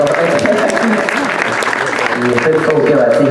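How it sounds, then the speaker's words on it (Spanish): Strong applause from the audience at an award ceremony for building a house fills the clip, with voices talking over the clapping the whole time. "Ya fuertes aplausos"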